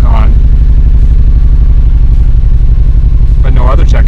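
A cold car engine idling near 1500 RPM while warming up, with no compression in cylinder 4, makes a steady loud mechanical drone with a rhythmic pulsing beat throughout. A voice speaks briefly near the start and again near the end.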